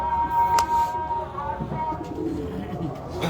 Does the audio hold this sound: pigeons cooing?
yes